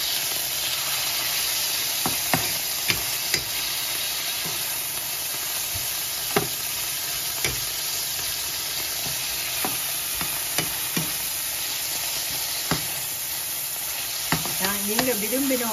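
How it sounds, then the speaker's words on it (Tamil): Steady, loud sizzling of chicken frying in olive oil in a pan, with occasional clinks and stirring scrapes, and no talking. "பொரிக்கிறேன்."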